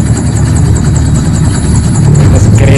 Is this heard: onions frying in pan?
no